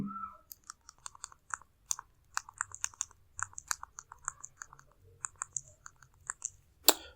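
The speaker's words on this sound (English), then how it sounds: "So let's type the Film Plus download code." A download code being typed on a keyboard: a quiet, steady run of light key clicks at an even pace, close up with no voices.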